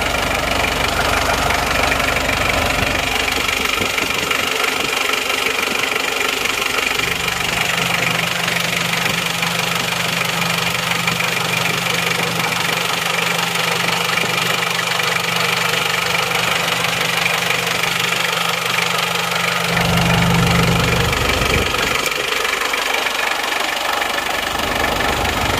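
An Isuzu Panther 2.3 diesel engine idles with the hood open, a steady close-up rumble with a faint knocking clatter and a low humming drone running through it, unbroken throughout.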